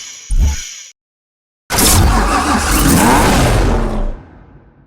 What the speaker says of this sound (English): The result is a 6-liter flex-fuel twin turbocharged W12.